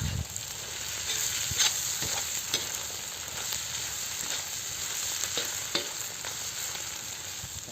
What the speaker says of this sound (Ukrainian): Додали зажарку і все вимішуємо.